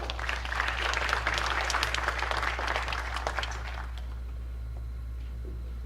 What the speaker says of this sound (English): Another round of applause for our superintendent,